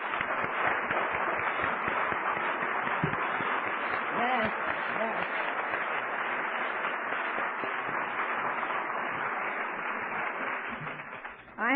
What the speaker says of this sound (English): How about let's give them a round of applause?